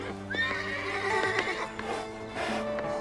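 Horses neigh and whinny in shrill, rising cries, close and loud, with a few hoof clip-clops mixed in and no voices.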